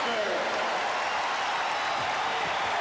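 An indoor basketball arena crowd at a 1993 Portland Trail Blazers vs. Golden State Warriors game keeps up a steady, dense roar of cheering and clapping, with a commentator's voice faintly over it.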